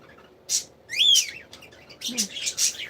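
Pet budgies chirp in a garden, giving a few bright, quick tweets and short warbled whistles that come in bursts close to the listener over a quiet background.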